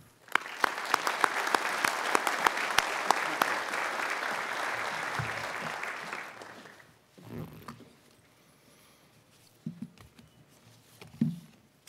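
An audience at an Ivy Day ceremony applauds to welcome a business professor as speaker, steady dense clapping for about six seconds that fades out, followed by a few quiet rustles and footsteps.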